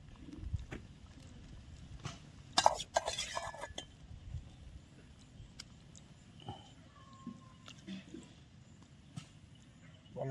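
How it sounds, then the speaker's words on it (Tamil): Fish pieces set aside from the masala are dropped into a pot of simmering fish curry, made with jilebi fish caught from an agricultural stream. Utensil clinks and scrapes against the pot come in scattered bursts, with a louder clatter early on and soft outdoor background noise. "இப்போ மசாலாலேருந்து அரிச்சு வச்ச மீனை நம்ம குழம்புல போடுறோம்"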